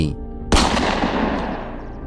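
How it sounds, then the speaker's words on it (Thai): A single loud, sharp gunshot from a Marlin 1894 lever-action rifle cracks out about half a second in, followed by a long rumbling decay, preceded by quiet low ambience. "ตวัดมาลิน 1894 ขึ้นเล็งในชั่วเสี้ยววินาที แล้วลั่นไกในทันที"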